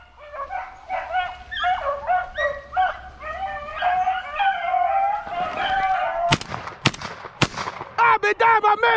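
A dog on a rabbit hunt gives rapid high yips, whimpers and barks in a near, excited run. Sharp, loud gunshots crack in near the end while the dog keeps yelping.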